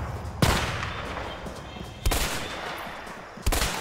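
Sniper rifle shots ring out in the video game A Way Out, three sharp loud cracks spaced well apart over a steady background hum, with no voices.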